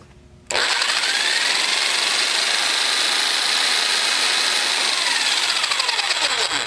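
A motor fires up abruptly after a brief quiet moment and keeps running at a loud, steady, even pitch, with a whirring whine throughout and no talking.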